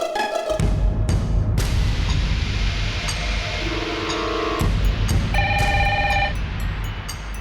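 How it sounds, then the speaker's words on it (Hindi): A phone rings in repeated bright electronic bursts over a noisy, rumbling background in a tense scene with a kidnapped commissioner. The rings are close and clear, with short gaps between them. "फोन आ रहा, उठाना मत"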